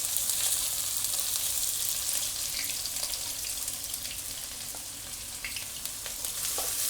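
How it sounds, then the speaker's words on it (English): Onion frying in hot oil in a pan for a vegetable curry, a steady soft hiss of sizzling with light crackle, fairly quiet and continuous, no voices. "so the oil is getting it's hot now, so I'll add on top, I'll add onion"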